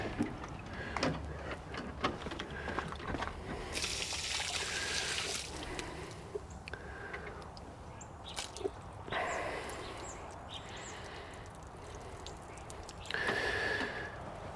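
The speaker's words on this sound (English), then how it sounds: "completely full of water, all water. So I'm gonna pour this outside real quick." Water poured out of a flooded part from a neglected Polaris Sportsman ATV, heard as splashing, trickling gushes in several bursts with handling noise between them.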